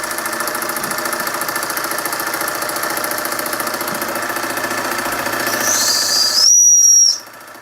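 A Doll horizontal-boiler, twin-flywheel overtype model steam engine chuffs steadily with a hissing background, then a shrill, high steam whistle blows loudly for about a second before cutting off.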